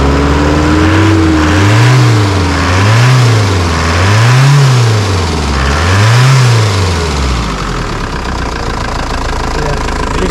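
A petrol-or-diesel ice cream van engine turns over and settles into a loud, close running idle with a rhythmic rising-and-falling pulse, then steadies toward the end; no talking over it.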